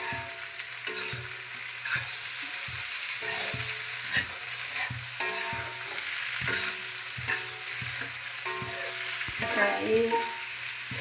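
Tomatoes and green chillies sizzle with browned onions in a pan for a Kerala-style pork fry, a steady frying hiss broken by regular scraping stirs of a spoon, close and fairly loud with no talk.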